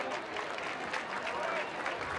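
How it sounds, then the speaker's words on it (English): Lake fans applauding in the stands at a high school football game, a distant, steady wash of crowd clapping and noise under an announcer's voice. "Lake fans applauding as if it will."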